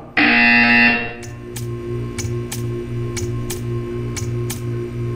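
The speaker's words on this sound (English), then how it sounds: "You will hear a buzzer." Loud electronic buzzer from the video game Portal 2, one harsh sustained blare about a second long. It gives way to a quieter rhythmic ticking and pulsing over a humming background.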